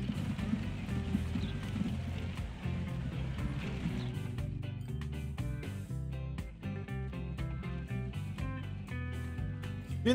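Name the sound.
horse galloping and neighing in video game Transport Fever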